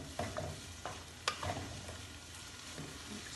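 A garlicky tater tot casserole mixture being stirred, giving soft wet scrapes and a few sharp taps of the utensil against the bowl over a quiet, slightly hissing background.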